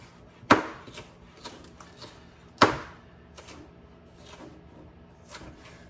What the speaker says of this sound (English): So just julienne. Get them all chopped up.